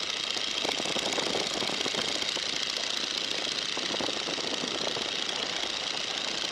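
Steady, continuous drone of a Stearman biplane engine climbing out after takeoff, an even buzzing roar heard from inside the aircraft with no breaks.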